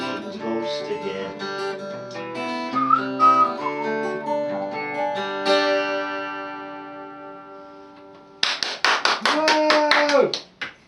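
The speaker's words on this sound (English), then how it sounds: "I like songs with whistling on." A whistled melody carries a song with steady backing instruments, clear and upfront, before a burst of sharp claps or taps near the end.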